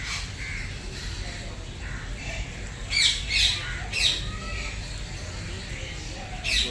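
Several harsh squawking bird calls ring out in short bursts over a steady background murmur, fairly close and repeated a few times, at Kankaria in Ahmedabad.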